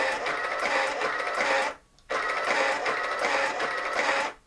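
A Psion II portable thermal printer whirs and buzzes steadily as it prints, stops briefly, then runs again for a second stretch before cutting off.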